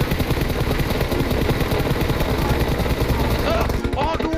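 Dense, continuous gunfire from a shooter video game, rapid shots packed tightly under a busy game soundtrack, with voices chattering over the top.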